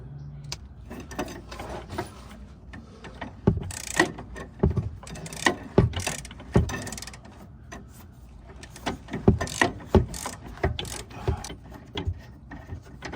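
A ratchet wrench works a nut off a Volkswagen Jetta's sway bar end link in two rapid bursts of close metallic clicking, separated by a quieter pause with faint handling noise.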